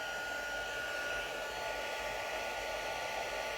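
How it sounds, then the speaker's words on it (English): A Stampin' Up! heat gun running on its number 2 setting gives a steady, even blowing hiss, fairly quiet and unchanging throughout, with no voices. "Now I'm going to heat up my heat gun."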